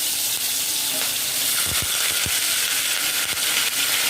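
Onions frying in hot oil in a kadai, a loud, steady sizzle close up with a few brief stirring clinks.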